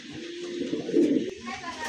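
Soft, low pigeon cooing from caged grizzle racer pigeons, rising briefly and then fading, heard close by under someone talking.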